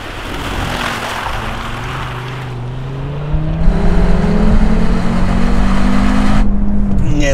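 A 2.5-litre turbocharged five-cylinder Audi RS Q3 quattro engine drones loudly and rises in pitch during a power slide on a smooth surface, with a steady rush of road and wind noise.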